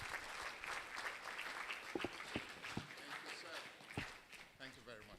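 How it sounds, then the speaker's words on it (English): An audience applauds after a talk on climate change and the green economy, a steady spread of clapping with scattered louder individual claps and some voices mixed in. "Please, let's keep the applause going for Professor Chuks Okereke"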